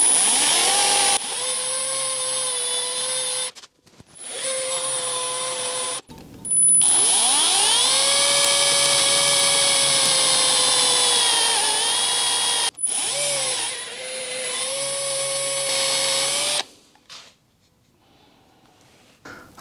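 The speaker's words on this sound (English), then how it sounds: "I think I'll carefully try and drill that out." Power drill boring out a captive grub screw on a Rover P4 dashboard clock, several whining bursts of varying length with brief pauses and pitch dips under load, close and loud.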